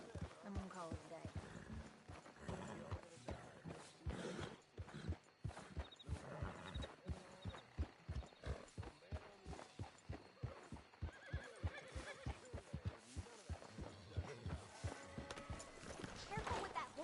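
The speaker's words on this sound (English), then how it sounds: "Careful with that horse, Arthur." A horse in a Wild West video game whinnies while its hooves clip-clop in a steady rhythmic gallop, with a voice speaking over parts of it.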